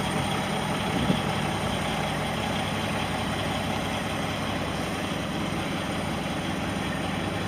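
A 2013 Kenworth T800 truck with a 455-horsepower PACCAR engine idles in a steady, even rumble, continuous and moderately loud, with no talk over it.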